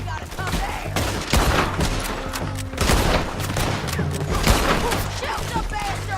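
Rapid gunfire fills a Red Dead Redemption 2 shootout, with repeated loud cracks and thuds in an uneven flurry under voices and game noise.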